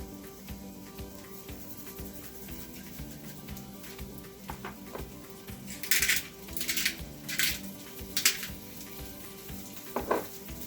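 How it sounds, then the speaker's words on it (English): Chopped onion frying in a pan with salt and pepper gives a steady sizzle, broken by several louder scraping bursts as it is stirred; no one speaks. "We'll put our onion in with a little bit of salt and pepper, and let that cook for about 3 to 4 minutes"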